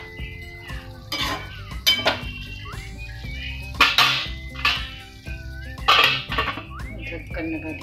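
Dishes, pots and pans clink and clatter in a home kitchen where a vegetable dish is cooking, with sharp metallic knocks scattered through the scene, close by, beneath someone talking.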